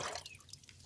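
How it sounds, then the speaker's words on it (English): Faint water drips while a broiler chicken's drinker is rinsed, a few small light plinks and splashes scattered over a quiet background, near and soft, with no talk. "I'm going to rinse it thoroughly."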